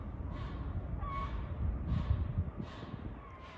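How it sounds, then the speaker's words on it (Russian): Seagulls calling outdoors, a series of about five repeated harsh cries at a steady pace, moderately near, over a low background rumble and no talking. "А у нас, как всегда, чайки"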